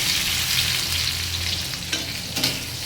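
Potatoes fry in a pan with a close, continuous sizzling hiss and a couple of brief louder crackles near the end, without any talking.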